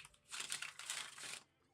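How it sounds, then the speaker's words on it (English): A deck of tarot cards is shuffled close by, giving a quick flurry of crisp riffling and flapping for about a second, then stopping in a quiet room. "that's enough shuffling for Sag"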